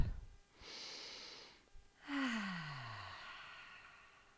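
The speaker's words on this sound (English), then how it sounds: "we're going to take some big inhalation and gently exhale with the ah sound" During a yoga breathing exercise, a person takes one big inhalation and then lets out a gentle, voiced 'ah' on the exhale that slides downward in pitch. Both breaths are close and soft, with a short pause between them.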